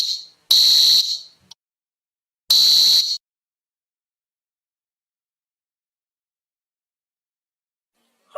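A school fire alarm sounds in two loud, shrill buzzing bursts about two seconds apart, followed by silence.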